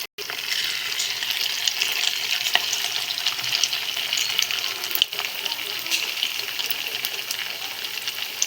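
Punugulu batter frying in hot oil, a steady close crackling sizzle with bubbling and occasional sharp pops, continuing alone without talk.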